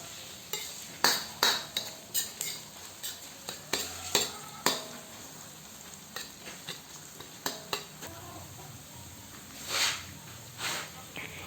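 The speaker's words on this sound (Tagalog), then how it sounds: "Lutuin lang natin yan ng 2 minuto or hanggang sa maamoy natin ang bango ng sibuyas at" Sliced onion and garlic sauté in a pan for a chicken sotanghon guisado, a soft sizzle broken by a string of sharp utensil scrapes and taps as the pan is stirred, fairly close and moderately loud.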